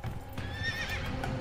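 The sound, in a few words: wild horses galloping and neighing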